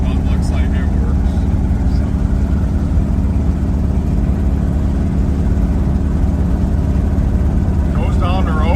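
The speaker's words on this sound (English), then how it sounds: "We're out driving our Chevy Suburban." A 1971 Chevrolet Suburban drives down the road with a loud, steady low engine rumble and road noise, and a brief voice is heard near the end.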